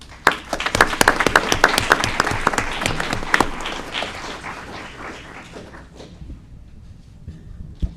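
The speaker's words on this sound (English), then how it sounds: "Round of applause for Mr. Rodriguez." Audience applause for Mr. Rodriguez at an Aurora committee meeting, starting with a burst of individual claps that merge into steady clapping, then thinning and fading out over the last few seconds.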